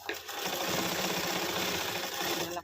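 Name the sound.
sewing machine stitching blouse dori pieces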